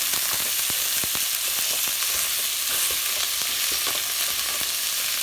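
Ground meat browns in a pan for a Rotel dip, giving a steady, close, broadband sizzle with scattered sharp crackles and pops throughout.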